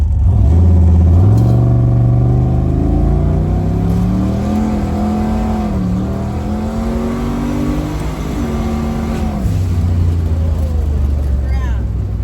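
A car at a race week pulls away gently and drives on, its engine note climbing through the gears with a brief dip between shifts, loud and close from inside the cabin, with occupants talking over it.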